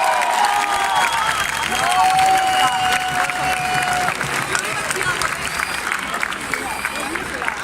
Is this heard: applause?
yes